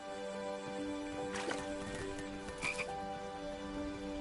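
Frogs croak repeatedly in a video game, a steady chorus of low, rhythmic croaks with a few louder bursts, standing alone without any talk.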